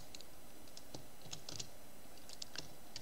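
Typing Python code on a computer keyboard, heard as sparse, quick clicking keystrokes in small irregular clusters, close but fairly quiet over a steady background hiss.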